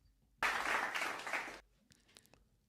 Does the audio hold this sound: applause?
yes